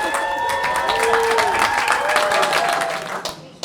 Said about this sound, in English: Thank you for your round of applause and your kind support.